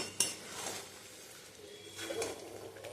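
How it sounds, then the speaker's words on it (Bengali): A lid clinks onto a metal pot of cooking chicken with a single sharp clatter near the start, followed by faint metallic rattles and a low background hiss. "চলো এবার ঢেকে দেবো"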